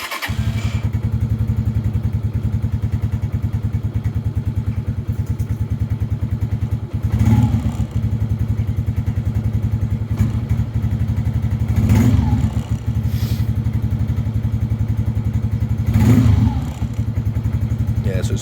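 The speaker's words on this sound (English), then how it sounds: "give it some choke and let's give it a try" Lifan King motorbike engine runs on choke, cold, with a steady loud close idle that stays a little uneven, punctuated by a few heavier thumps and brief revs.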